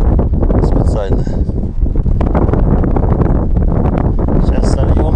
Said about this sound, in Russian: Ветрище, блин, вообще жесть, конечно, в последнее время.